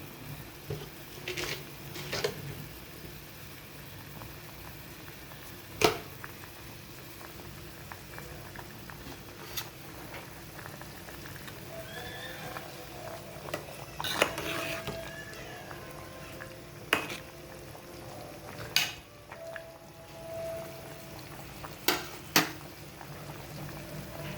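A pot of potato curry simmers at a low, steady boil, with faint bubbling and scattered soft pops and clicks over a long, quiet stretch.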